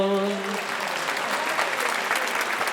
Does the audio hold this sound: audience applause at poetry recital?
yes